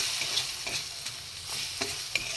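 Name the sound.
potatoes sautéing with spices in a pan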